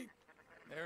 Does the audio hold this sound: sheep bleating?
yes